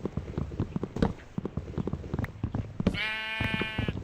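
Sheep bleating in the video game Minecraft, one clear wavering bleat near the end over a busy stretch of tapping, footstep-like clicks and game sounds, close and moderately loud, with no talking.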